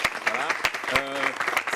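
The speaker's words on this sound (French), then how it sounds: "Applaudissements pour eux." Short burst of audience applause at a national youth council event, heard beneath a voice speaking through the whole moment.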